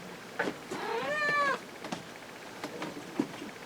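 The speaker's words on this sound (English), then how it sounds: "see if I can get rid of the cat here" A cat meows loudly nearby in an indoor room, one long rising and falling call with a few shorter sounds around it, heard alone with no talking.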